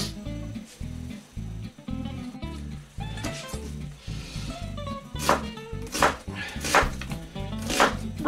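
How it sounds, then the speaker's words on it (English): A knife slicing an onion on a chopping board for Lancashire hotpot, a run of crisp, regular chopping thunks, close and fairly loud, speeding up toward the end with sharper cuts. "I like to cut the onion into slices like that"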